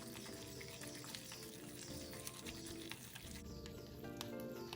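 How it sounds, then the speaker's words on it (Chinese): Minced meat mixed with cornstarch is stirred with a pair of chopsticks in one direction, a dense, continuous wet squelching and pattering, close and fairly uniform throughout. "然后再用双筷子顺着同一个方向搅拌。"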